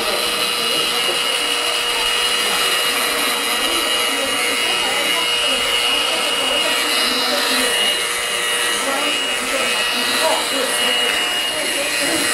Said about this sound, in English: So I bring the hairdryer.